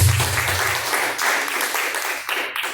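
A church congregation claps in praise during a live service, dense rhythmic clapping throughout with some louder surges.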